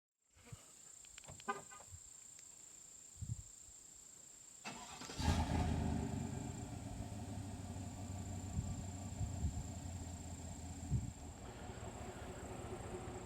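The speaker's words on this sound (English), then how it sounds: "So I'll get the camera behind the truck and we'll start it up." A 2020 Chevy Silverado Trail Boss pickup cranks and fires up about five seconds in, then settles into a quiet, steady idle from behind the truck, with a few small knocks before the start.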